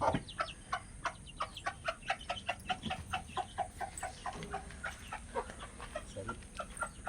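Backyard chickens, some apparently suffering from a cold, cluck continuously in quick repeated bursts, a dense, moderately faint flock chatter with no voices.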